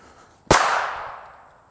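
Single revolver gunshot fired from inside a pocket, a sharp loud crack after a quiet moment, followed by a long decaying echo.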